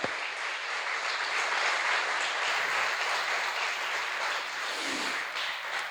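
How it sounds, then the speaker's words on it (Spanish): A church congregation breaks into sustained applause, a dense, even wash of many hands clapping that holds steady for several seconds with no voices over it. "Un aplauso."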